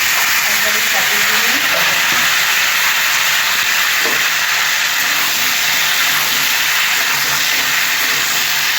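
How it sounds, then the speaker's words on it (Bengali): Potatoes frying in hot oil for a Bengali ridge gourd and potato poppy-seed dish, a steady loud hiss and sizzle filling the whole stretch, with faint clinks underneath and no talk. "এরপর আমি এই আলুগুলো ভেজে নিচ্ছি,"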